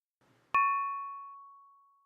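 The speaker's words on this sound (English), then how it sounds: "The phone rang." A single bright electronic ding rings out after a faint rustle, its tone ringing on and slowly fading over about a second and a half, loud and alone in a quiet room.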